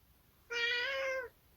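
A single clear, fairly close cat meow, drawn out for under a second against a quiet background, with no talking.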